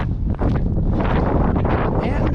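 Strong wind buffets the microphone at I-80 Speedway race track with a steady, heavy low rumble throughout, loud and continuous.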